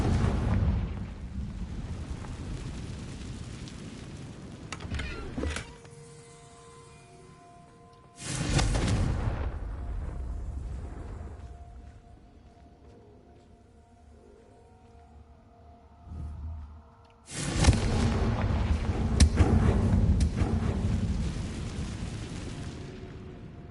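Confringo fire spells exploding in Hogwarts Legacy on PS5, heard as three loud, close, booming fiery blasts, each fading into a low rumble with quiet game ambience between them.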